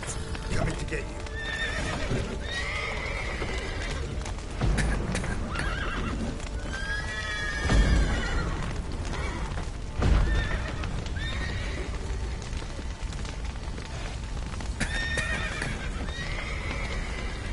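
Several horses neigh and whinny repeatedly amid clopping hooves and a busy, noisy scene in The Witcher video game, with voices talking over the commotion.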